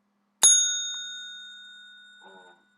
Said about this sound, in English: And then enjoy the sound of this nice bell.